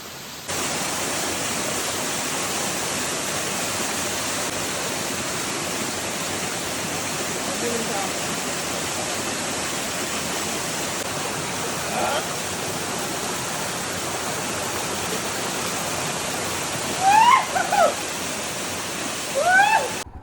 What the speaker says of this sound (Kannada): Come, welcome to Elnur waterfalls.